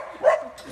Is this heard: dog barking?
yes